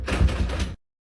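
A door opens with a brief, low rumbling slide and knock, close and fairly loud, then cuts to silence.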